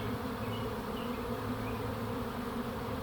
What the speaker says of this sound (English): you see these bees are very interested in my hand all of a sudden